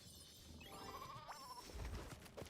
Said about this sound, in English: Is that a black sheep? Sure is.